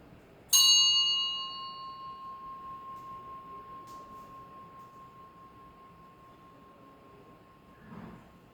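A single high-quality metal bell struck once, ringing out with a sharp, bright attack and a long, steady sustained tone that slowly decays over several seconds, with a faint brief rustle near the end.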